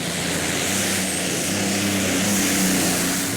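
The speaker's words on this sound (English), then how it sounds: "V12 Allison engine doing the job today." At the 2015 European Tractor Pulling Championship in Brande, Denmark, the Renault Mission Impossible pulling tractor runs on a V12 Allison aero engine. A loud, constant roar with a deep droning hum holds steady across the track, with no speech over it.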